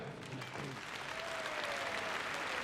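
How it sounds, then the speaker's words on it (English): Applause from the crowd at Crufts 2012 greets a heelwork-to-music finalist and her Border Collie, a steady spread of clapping through a large arena, with a voice faintly heard near the start. "So give a round of applause."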